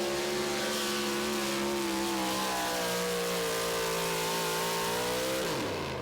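A 650 cubic inch tractor-pulling engine at an NTPA pull in Tomah, Wisconsin revs hard and loud, its rising multi-harmonic roar held steady for several seconds before dropping sharply at the end.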